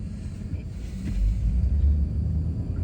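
A truck rolls past on a city street in Fayetteville, North Carolina, as a low, steady engine rumble that swells slightly and stays close for a few seconds.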